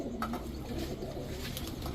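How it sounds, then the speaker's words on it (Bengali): A male and female pair of Bezi pigeons, jumper-type birds kept in a pigeon collection, give soft low coos that come in a few short phrases, close by and fairly quiet over a faint background hum. "এখন দেখাবো এক জোড়া বেজি কবুতর।"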